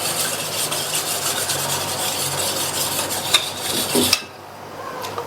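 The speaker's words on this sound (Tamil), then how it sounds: "ஒரு விஸ்க் வச்சு நல்லா கட்டி இல்லாம கரைச்சிக்கங்க." Whisking a ground spice powder paste with water in a pot for chapathi kuruma, a steady scraping, rubbing whirl of the whisk against metal that runs continuously, then stops abruptly, followed by a couple of faint clinks.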